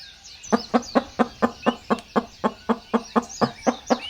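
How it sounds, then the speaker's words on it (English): A hen clucking on a farm, a steady run of about fifteen short, evenly spaced clucks, close and clear with no other sounds. "This is hen."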